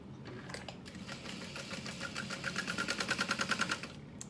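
A sewing machine stitches across a clutch wallet in short bursts, then settles into a fast, even rhythmic whirring that grows louder toward the end, quiet overall with no voices.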